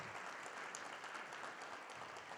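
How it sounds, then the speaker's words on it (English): An audience breaks into a round of applause, dense steady clapping from a crowd that stays even throughout the short burst. "give me a round of applause"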